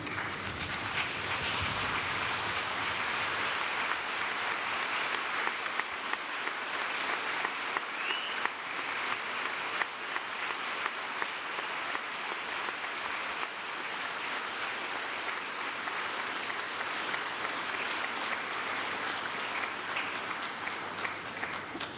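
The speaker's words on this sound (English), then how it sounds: "join me in offering them our sincere thanks and appreciation with a warm round of applause" Graduates at a School of Computing and School of Electrical and Mechanical Engineering graduation ceremony receive a long, warm round of applause from a large audience, with thick, even clapping sustained at steady volume for over twenty seconds.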